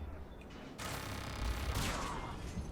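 Rapid turret gunfire in the sci-fi shooter Mass Effect 3, a dense sustained burst of shots over a low rumble, loud and continuous with no talk.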